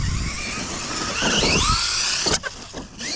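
Close and loud, the high electric whine of an RC truck's motor climbs, then cuts into a hard crash and a few scattered knocks and skids as the truck tries a backflip.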